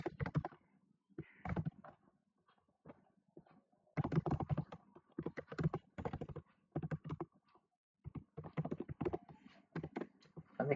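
Computer keyboard typing during text entry, bursts of close, moderately quiet key taps in irregular clusters with short pauses between runs, no talking.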